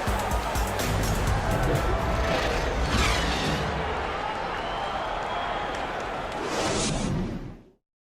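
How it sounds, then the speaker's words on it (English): Virtual crowd in an NBA 2K23 basketball game, Heat versus Nuggets NBA Finals simulation, applauding and cheering at a quarter break: steady dense clapping and roar throughout, swelling near the end before cutting off. "Fans, please give a big round of applause."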